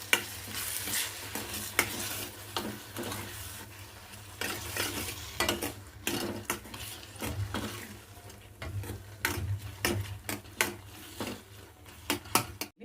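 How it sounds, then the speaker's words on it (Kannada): Dal is stirred into a pan of spluttering mustard seeds, with repeated scraping strokes of a spoon against the pan over a low steady sizzle, close and fairly quiet, with no talking. "ಈಗ ಸಾಸಿವೆ ಎಲ್ಲ ಸಿಡಿದದ."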